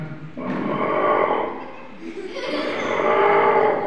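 A voice imitates a tomcat for a puppet show, giving a drawn-out, growling yowl that swells twice across about four seconds, loud and close.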